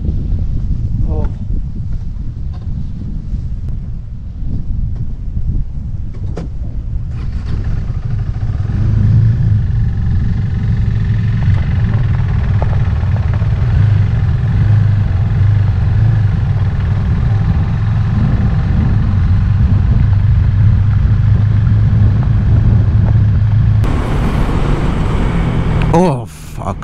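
Motorcycle ridden on gravel roads in Iceland through cold, foggy wind, a continuous engine drone buried in heavy wind buffeting on the microphone, with a sharper gust near the end.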